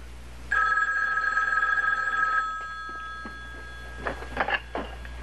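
Telephone bell rings in one loud, trilling burst lasting about two seconds, followed by faint clicks and handling sounds.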